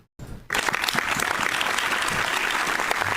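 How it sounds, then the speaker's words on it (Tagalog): Applause from a live studio audience on a Filipino radio show greets a guest, bursting in after a brief silence and holding as a steady, dense patter of many hands. "Ay, palakpak na nagaganap."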